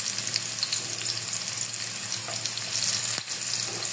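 Ginger, then garlic, sizzles in hot oil in a pan for ginataang kalabasa with sitaw and crab. A continuous, close frying hiss with small crackles runs throughout.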